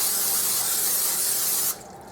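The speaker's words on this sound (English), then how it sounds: "I'm going to spray it just with my little spray stuff on my fingers." Cooking spray hisses steadily into a casserole dish for under two seconds, then cuts off abruptly, leaving quiet room tone.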